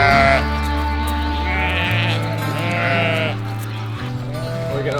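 Sheep bleat on a farm, several calls rising and falling across the clip, close and fairly loud, with steady livestock noise and some other sounds underneath.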